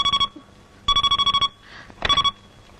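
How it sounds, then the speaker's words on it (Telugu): A telephone rings in a Telugu movie scene: three bursts of rapid electronic trilling with short pauses between, loud and close, a faint voice briefly heard in one gap. "ఈ ఫోన్ నాకు డాడీ."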